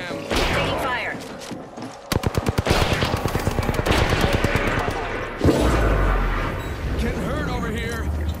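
Video game gunfire, a rapid automatic burst of evenly spaced shots in the middle, with heavy thuds and impacts around it and voices talking throughout.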